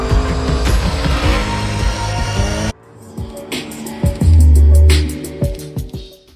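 Lamborghini Urus Performante super SUV engine, a loud sustained roar that cuts off abruptly, then sharper revving bursts and a deep low surge as the engine picks up again.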